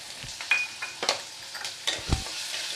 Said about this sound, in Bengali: পেঁয়াজটা আমি এরমই ভাজবো। এটা লো টু মিডিয়াম আছে।